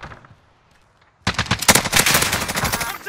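Gunfire in a Call of Duty Warzone match erupts after a quiet second, a loud, close, rapid burst of automatic shots that keeps rattling to the end.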